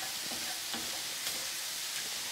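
Shallots and garlic sizzle steadily in a hot pan for soup, a continuous broadband hiss with a few soft stirring clicks, moderately quiet and without voices.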